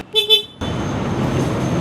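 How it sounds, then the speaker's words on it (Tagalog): Two short, high-pitched beeps from the small, scooter-like horn of a 2025 Honda Hornet 1000 motorcycle, followed by the low, steady rumble of its idling engine. "pakinggan natin horn"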